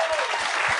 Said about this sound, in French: On l'applaudit s'il vous plaît, Mike Ward.